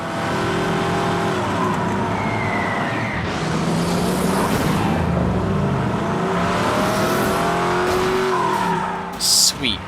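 A vehicle driving in the PS3 video game Haze revs and accelerates with engine roar and a brief tire squeal, loud and continuous, ending in a few sharp bursts.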